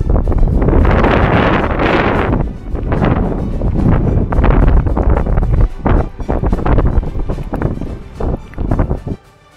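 Loud, chilly, brisk wind buffets the microphone outdoors during a walk, a roaring gusty rumble that rises and falls throughout.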